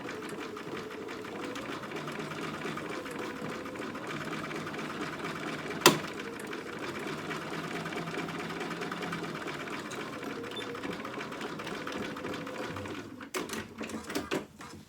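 Domestic sewing machine basting a gathered fabric piece across a dog-dress bodice, a steady close whirring stitch run that holds unbroken for most of the stretch, with one brief sharp click midway and a few uneven stops near the end.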